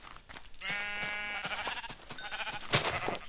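Sheep in the Minecraft video game bleat several times in quick succession, each a short wavering cry, heard fairly quietly with no talking over them.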